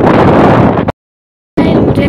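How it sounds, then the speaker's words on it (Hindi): Strong wind blows across a village bridge, a loud, close roar of microphone buffeting that drops out briefly before returning with a faint voice. "यहाँ पे अभी हवा चल रही है बहुत"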